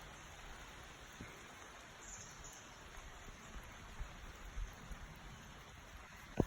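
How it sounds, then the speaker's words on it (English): Rain falling outdoors on a rainy day with dogs around, a faint steady hiss of rainfall with occasional soft drops and small knocks nearby. "It is raining."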